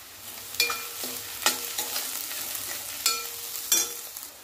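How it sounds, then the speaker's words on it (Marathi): Onions fry in a pan with ginger and garlic crushed in a mortar, under a continuous sizzle. A spoon scrapes and clacks against the pan in several sharp, uneven strokes nearby, with no speech. "तांबूस असा कलर येईपर्यंत आपल्याला हा कांदा भाजून घ्यायचा आहे"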